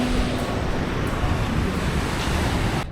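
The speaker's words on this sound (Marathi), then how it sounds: "लाटा खवळलेत पूर्ण" Rough, churning sea waves on the Konkan coast form a loud continuous roar mixed with gusting wind noise, with no talk over it.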